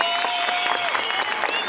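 Spectators at a village jaripeo contest in Oaxaca break into loud, continuous clapping and crowd noise for a couple of seconds, with piercing whistles sounding above the applause.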